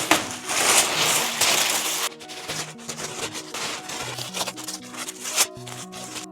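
A cover is pulled off a garage workbench for 3D printing, a burst of rustling, crumpling noise followed by scattered handling clatter and shifting sounds, with music playing underneath.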